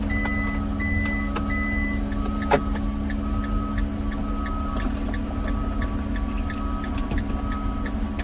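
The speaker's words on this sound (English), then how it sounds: "Gonna turn the vehicle on so the device begins to communicate." A car idling steadily after being started, a constant low engine hum with faint intermittent electronic beeps over it, near and even in level throughout.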